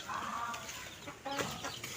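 Kampung chickens clucking inside a wide coop used for rearing and as a breeding colony, a steady murmur of overlapping clucks with a few louder calls near the end.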